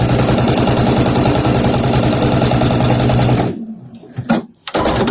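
A sewing machine stitches a quilt block seam for a star block with a fast, even, loud mechanical whirr that runs steadily for over three seconds, then stops, leaving a few short thumps and clicks.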